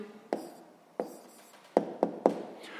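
A pen taps and scratches on paper while an answer is written down, with five or so sharp, close ticks spaced unevenly apart in an otherwise quiet room.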